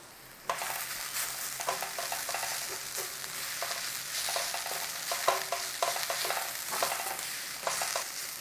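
Hing and spices sizzle in oil with an onion, garlic and ginger mix over a low flame, a steady frying hiss broken by stirring scrapes and soft clatter throughout.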